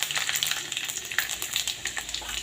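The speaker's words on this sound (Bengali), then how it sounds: "এখানে তেজপাতা গোটা ফোড়ন দিয়ে দিলাম, আর এখানে দিয়ে দেবো পাঁচ ফোড়ন" Bay leaves and five-spice seeds dropped into hot oil in a darkened kadai: a dense, crackling sizzle of quick pops throughout, close and moderately loud.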